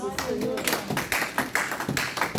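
A church congregation breaks into applause for Jesus Christ, with many hands clapping in quick, uneven bursts that come and go, close and fairly loud, and voices mixed in among the clapping.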